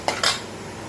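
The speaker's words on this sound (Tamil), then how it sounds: "சும்மா ஒரு 2 தடவை இப்படி வணக்கி விட்டுட்டு நாம் அடுப்பை ஆஃப் பண்ணிடலாம்" Two quick metal scrapes of a spoon against a hot pan while grated coconut is stirred for aval kozhukattai, brief and close.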